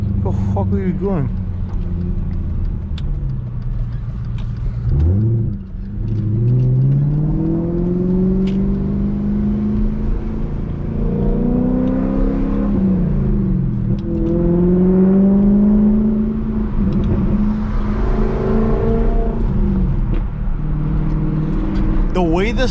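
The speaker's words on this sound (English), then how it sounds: "The way the sound of this engine echoes back off of other cars is absolutely nasty" A straight-piped BMW 540i engine revs hard and loud, rising and falling in repeated sweeps with strong low harmonics, echoing close by throughout.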